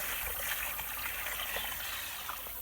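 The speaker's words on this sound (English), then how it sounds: "most people drink over the side instead of pushing it in and dumping all the water out" Water splashing and trickling steadily from a chicken waterer outdoors, a continuous close wet dribble with no voices over it.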